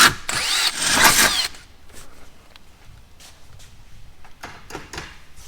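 A power drill boring a 6.5 mm hole during a dual battery install on a Toyota 200 Series, a loud dense burst of drilling for about a second and a half, then quieter clicks and handling noises.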